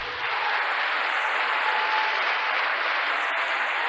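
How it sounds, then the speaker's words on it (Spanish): A church congregation gives loud, steady applause that fills the space evenly from start to finish, a dense wash of many hands clapping together without pause. "Démosle un aplauso fuerte."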